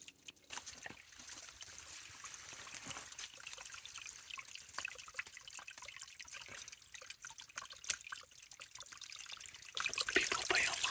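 Clear spring water trickles out of rocks beside a small cave on a lake property, a steady close, soft burble that grows a little louder toward the end.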